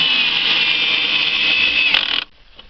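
An AEG BS18C cordless screwdriver drives screws into wood with a loud, steady high motor whine that runs for about two seconds and then cuts off abruptly, close up with no talk.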